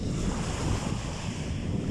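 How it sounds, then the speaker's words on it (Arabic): Sea waves wash continuously onto Azla beach near Tetouan, a broad steady roar of surf mixed with wind rumbling against the microphone, with no voices. "الصوت البحر كيريح بزاف، كيخليك تحس واحد الاحساس مزيون"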